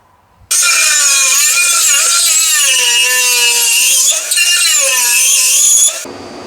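A power cutting tool slices through a crusted, crispy-coated exhaust pipe on a Simplicity Broadmoor lawn tractor, a loud continuous high-pitched whine with wavering pitch lasting about five and a half seconds, then cutting off abruptly.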